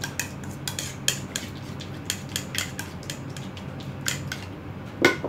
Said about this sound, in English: Okay, we're going to mix it.